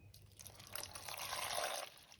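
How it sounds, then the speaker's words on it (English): Water poured from close by over taro and other ingredients in a pot for kūlolo, a soft continuous trickle that swells for about a second before stopping. "just gonna put a little bit water"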